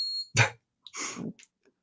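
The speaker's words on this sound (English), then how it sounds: "Forgive that beeping." A high electronic door alarm tone beeps briefly at the start, followed by a few short, muffled knocks and rustles in an otherwise quiet room.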